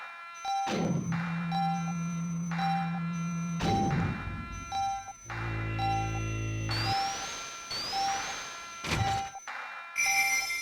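A bright notification tone chimes in repeated short beeps and rising chirps over steady game music from a Sonic the Fighters stream, the electronic pings standing out clearly and close, with no talking.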